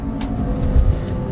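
A 2020 Toyota Agya climbs a flyover, its engine humming steadily from inside the cabin with road rumble underneath and a slight swell in the middle.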